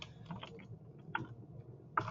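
Quiet, sparse clicks of typing on a computer keyboard, a handful of separate keystrokes spaced irregularly over a couple of seconds.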